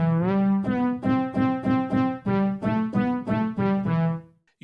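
A Fraction VST synth with its humanize control turned up plays a repeating run of short tonal notes with slight pitch and timing variation, clean and upfront with no talk.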